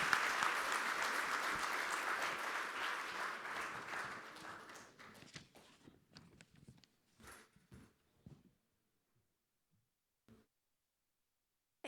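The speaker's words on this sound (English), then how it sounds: "Big round of applause, everyone." A conference audience applauds, loud and dense at first, then thinning into scattered individual claps before fading to silence.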